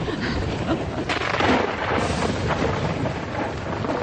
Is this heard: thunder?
yes